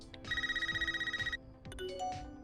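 A cordless phone rings in a movie trailer: two bursts of a bright electronic trill with a rapid warble, fairly close, followed by some brief rising tones and faint background sound.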